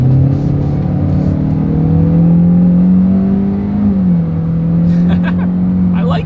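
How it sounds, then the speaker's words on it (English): A 2020 Hyundai Elantra with its base engine accelerating hard from a stop in sport mode, a loud, close engine drone rising steadily in pitch as it revs up, easing briefly near the end, with faint interior clicks. "Let's go ahead and do a quick little acceleration, see how quickly we can get this new 2020 Elantra here up to speed."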